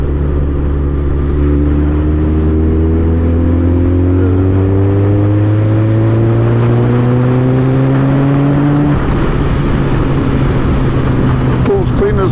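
A supercharged 370hp Kawasaki ZZR1400 motorcycle pulls hard in top gear from about 2,000 revs, its engine note rising steadily for several seconds before easing off, heard close up from the rider's position with wind rush and a voice speaking over it.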